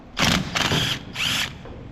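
Power tool backing out the stop sign bolts on a Gleaner R52 combine rotor, three close bursts of whirring, rattling drive with short pauses between them.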